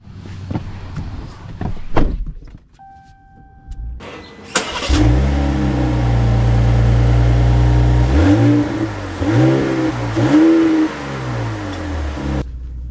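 A 2025 Ram 1500 Lonestar pickup truck starts up after a few clicks and a door thunk, then its engine roars loudly as it pulls away and accelerates, with rising and falling revs close by.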